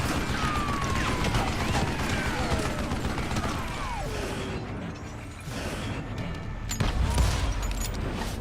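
Sustained rapid Gatling gun fire in the Western shooter Call of Juarez: Gunslinger, a dense continuous roar of shots with mechanical rattling, briefly dipping before resuming loud to the end.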